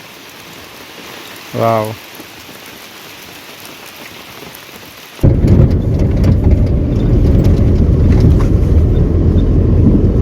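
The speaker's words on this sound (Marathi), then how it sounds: "हा बघा मस्त मोठा पाऊस आला." Heavy rain starts suddenly and roars on nearby surfaces in a loud, dense downpour, after a brief exclamation from a voice and a quieter stretch. No thunder is clearly heard.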